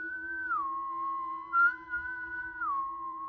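A person whistles a simple tune in imitation, a steady pure tone that glides down and back up, alone in a quiet room with a faint hum beneath.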